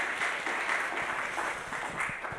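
Congregation applause at a Korean church young-adults service, a soft, even patter of many hands clapping together at moderate distance, sustained without pause.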